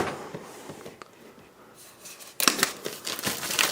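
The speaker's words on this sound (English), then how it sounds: "let me just cut this plastic here" Scissors snip through the plastic wrap on a MacBook Air Mid 2012 box: a few faint clicks, then a louder burst of crisp cutting and crinkling close up.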